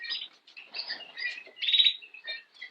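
Bullfinches chirp and call in an indoor breeding bird room, a busy run of short, fairly loud tweets and whistled notes with brief gaps, no voices.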